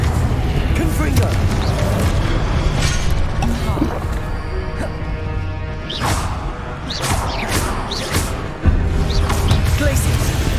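The Confringo blast spell in Hogwarts Legacy fires amid combat, with several sharp booming impacts and crashing whooshes scattered over a busy, loud mix of battle noise.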